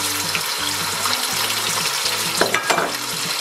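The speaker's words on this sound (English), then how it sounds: "So we're going to be adding the tomato paste first." Tomato paste sizzles and fries in a pan for lamb jollof rice (benachin), a steady hiss with rhythmic stirring scrapes repeating throughout, close and loud.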